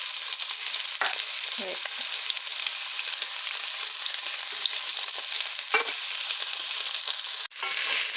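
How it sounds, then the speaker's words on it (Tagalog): Onion and garlic sizzle steadily in a pan with golden-browned meat, a dense, even frying hiss with occasional stirring scrapes and a brief spoken word. "now we can add our onion and garlic"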